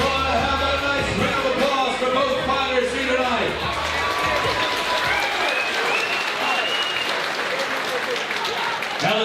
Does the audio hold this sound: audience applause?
yes